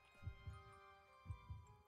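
A heartbeat from the video game Winter Burrow thumps in two paired lub-dub beats, soft, low and evenly spaced, over a faint hum.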